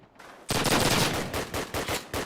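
Rapid automatic gunfire in a competitive video game match, a loud sustained burst of close shots with a few trailing rounds and no voices.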